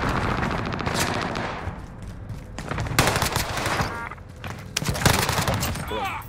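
Rapid automatic gunfire and scattered shots in the battle royale game Warzone on Rebirth Island, loud and dense across the whole stretch, with bursts overlapping and a player's voice talking over the fire.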